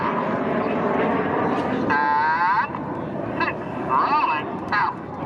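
Red Arrows display jets roll through a barrel roll at the Southport Air Show, their engines a continuous roar under a commentator's amplified voice, with warbling radio-like tones cutting in and out.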